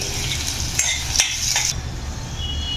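Chopped onions sauté in a pan for Maharashtrian pithla, with a continuous sizzle and a few sharp clinks of a spoon stirring against the pan.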